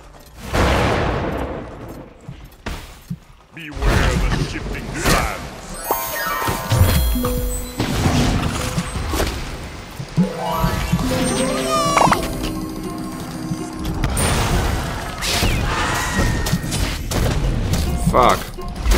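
Loud combat in the video game SMITE: explosive booms and crashes mixed with bursts of gunfire and mechanical clatter, dense and continuous with occasional voices underneath.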